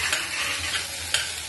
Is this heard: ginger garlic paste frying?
yes